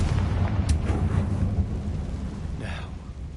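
A Confringo spell explosion in the Hogwarts Legacy video game sounds as a deep, rumbling blast that rolls on for several seconds, heavy in the low end, with faint crackling debris over it.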